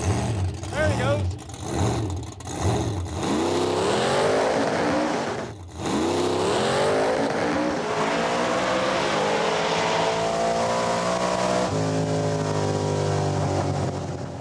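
A Pro Street Chevy Nova with more than 1000 hp roars through a drag racing pass. The loud engine revs hard in short bursts at the launch and then climbs through long, rising pulls with a gear change.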